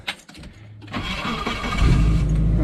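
A Geo Tracker off-road rig cranks with a short starter whirr and fires up, then settles into a steady, close, rumbling idle that grows louder.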